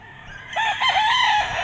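A White Kelso gamefowl bull stag at a gamefarm gives one loud, close crow that rises and wavers before trailing off.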